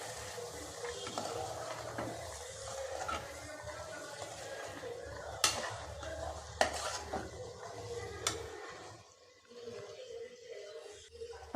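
Sprouted chickpeas being stirred into sautéed masala in a pan, with close metal spoon scrapes and clinks against the pan and a few sharp knocks over faint sizzling, and no talking.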